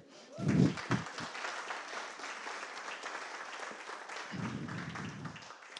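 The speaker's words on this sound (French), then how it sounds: "Merci, vous pouvez applaudir." Audience applause at a French-language address, a broad crackling wash of clapping that holds steady for several seconds, with a few louder low thumps near the start and again toward the end.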